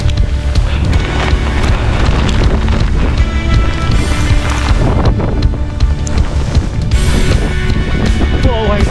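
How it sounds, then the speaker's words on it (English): A hailstorm with strong wind on the South West Coast Path in North Cornwall near Bude, with loud, continuous buffeting wind noise and dense rattling close to the microphone throughout. "I'm in a hailstorm."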